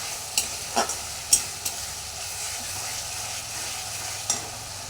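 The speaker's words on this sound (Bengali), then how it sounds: "তো বন্ধুরা আমি এখনও মশলাটা কষিয়েই যাচ্ছি" Masala spice paste stir-fried in a pan, with a low continuous sizzle punctuated by a handful of sharp spatula scrapes and taps at uneven intervals, close by and moderately quiet, no one talking.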